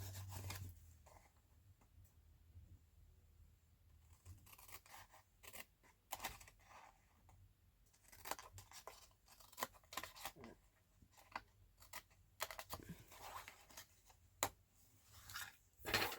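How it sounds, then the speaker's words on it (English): Scissors snip a small V shape into a sheet of paper, giving a quiet run of close, crisp clicks and cuts with scattered paper handling and no voices. "So you're just going to cut a little V there."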